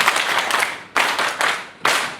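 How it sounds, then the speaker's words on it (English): An audience at a district leaders' gathering breaks into loud, close applause in three bursts, each surge of clapping fading before the next swell, with no talking over it. "Clap again, and I will say why."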